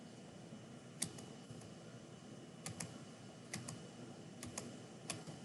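Someone types on a computer keyboard while working through a calculus problem. Sparse, quiet key clicks come in small bursts over a hushed room hiss, with no one speaking.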